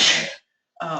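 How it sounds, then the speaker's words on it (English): A single close, loud sneeze from a person with allergies, a sharp burst that stops abruptly and is followed a moment later by a short breathy sound. "I must sneeze."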